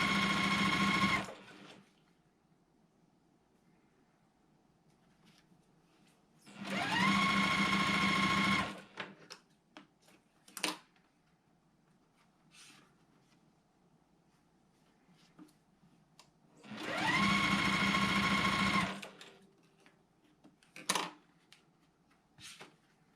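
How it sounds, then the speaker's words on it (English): A sewing machine stitches quilt border pieces made from white rectangles and a teal print square. It runs in two loud bursts of about two seconds each, and quiet handling clicks and rustles fill the pauses between them. "Now I'm going to sew together the first border that we're adding"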